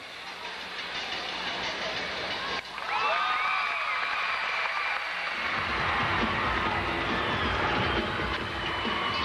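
A large arena crowd at the 2002 NCAA women's gymnastics Super Six Challenge in the O'Connell Center erupts with sharp whistles, then swells into a broad, sustained roar of cheering that stays loud to the end.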